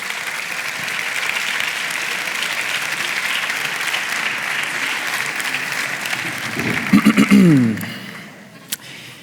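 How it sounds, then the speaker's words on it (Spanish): Conference audience applauding a speaker, sustained even clapping that swells, then dies away near the end as a voice and a few last claps follow. "Un aplauso para él"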